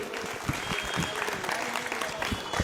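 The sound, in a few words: audience applause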